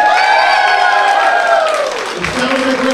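Crowd at the debut Twin City Wrestling Show in the Blockhouse Fire Hall, cheering and whooping loudly under a man's speech, with a sustained pitched shout that falls away before clapping and noise continue.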